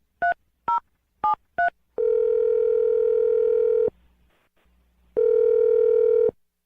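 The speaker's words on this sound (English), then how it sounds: "I'm going to dial the phone number right now" Four quick touch-tone beeps of a number being dialed, then a long steady phone tone, a short pause, and another tone.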